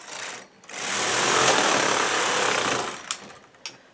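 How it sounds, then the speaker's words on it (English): A domestic knitting machine carriage with a ribber attached is pushed across the needle beds, making a steady whirring, rattling sweep that lasts about two and a half seconds and ends in a few clacks. "Now what I'm going to do is knit 3 rows."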